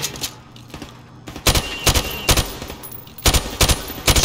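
A rifle fires from the hip in a Call of Duty: Modern Warfare Remastered training range, with sharp loud shots in quick clusters of two or three and short pauses between.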